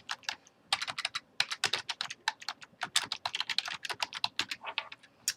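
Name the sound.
typing a document name on a computer keyboard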